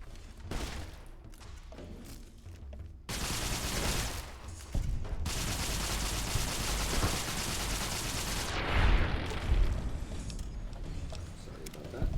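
Rapid gunfire and a dense, sustained firefight fill a Fallout: New Vegas battle, with loud overlapping shots and rattling bursts running for several seconds amid clanks and thuds.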